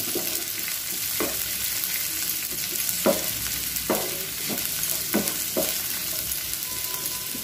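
Vegetables for a bottle gourd (lauki) Manchurian sizzling in a pan, a steady frying hiss broken by several sharp scrapes and clinks of a spatula stirring, no speech.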